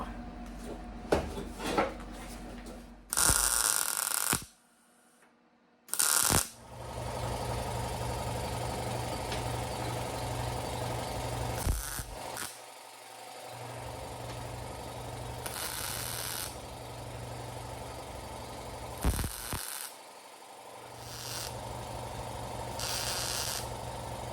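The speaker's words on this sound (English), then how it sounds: "let's get that tacked in place, then we'll weld it up." Tack welding a steel panel onto the chassis of a 1972 VW Super Beetle during floor pan repair: several short, loud bursts of hissing crackle stand out over a steady machine hum, with brief quiet gaps between them.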